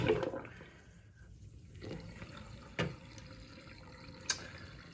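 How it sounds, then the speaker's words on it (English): Soapy water drains out of a basin after the parts of a Simplex projector are washed, starting with a brief louder gush of liquid and then settling into a low, steady trickle with a couple of small splashes. "All right, I'm done with the soap. Let's go ahead and drain this out."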